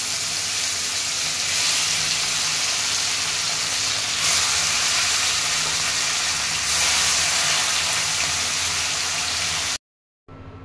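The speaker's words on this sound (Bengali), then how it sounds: "আরও কিছু যে মাছগুলো আছে ওগুলোকেও আমি ভেজে নেব একই তেলে" Bata fish fry in oil in a pan, giving a loud, continuous sizzle and hiss that runs steadily for about ten seconds before cutting off, with no talking.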